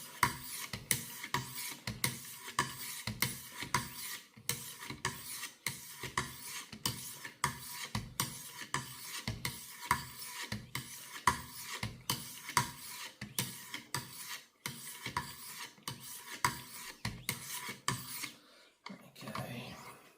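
A Cold Steel Magnum IX Tanto blade is stroked across a 200 grit whetstone in a fast, regular series of close, gritty rasping passes that continue evenly until a brief pause near the end.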